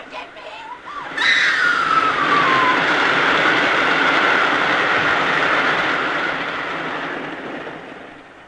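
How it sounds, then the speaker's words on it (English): A train rushes in close and loud with a sudden roar and a high screeching whine, keeping up a dense rumble that slowly fades, with voices partly under it. "Oh, there's a train coming."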